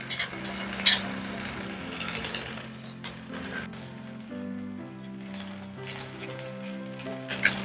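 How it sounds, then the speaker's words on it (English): Thick steaks searing in hot avocado oil in a cast iron pan, a steady close crackling sizzle with a brief louder spatter at the start and occasional clinks, no talking. "We're going to sear the steaks approximately 3 minutes on each side."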